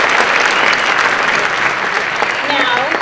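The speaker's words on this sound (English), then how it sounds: "So again, another round of applause for the student." Audience applause at a high school band concert, steady dense clapping from a large crowd filling the room, loud and continuous without a break.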